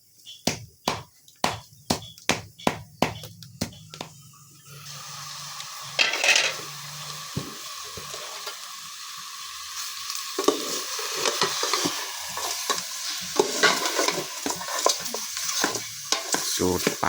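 Fish and mushrooms are stir-fried in a pan for a Thai home-style dish. A run of sharp rhythmic knocks comes first, then a steady, building sizzle with scraping stir strokes, close by.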